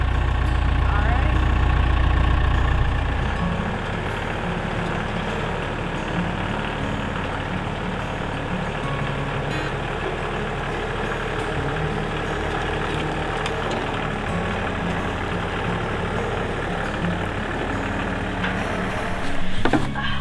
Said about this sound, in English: got a quick lesson on the tractor